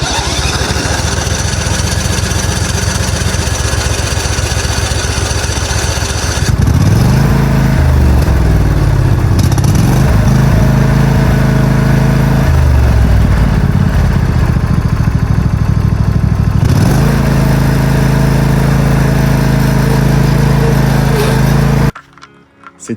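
A small pocket bike left unused for four years starts up and runs, its little two-stroke-style engine droning loudly and steadily at close range with rising and falling revs before abruptly cutting off near the end.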